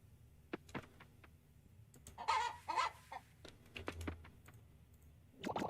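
Chicken clucking in the farming game Coral Island, a few soft clucks in the middle mixed with scattered computer keyboard taps, all faint and close.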